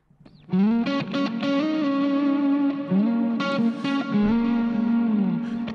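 Electric guitar plays the vocal melody of a song, sustained and singing, drenched in heavy reverb and echoing delay, notes bending and ringing on with no voices.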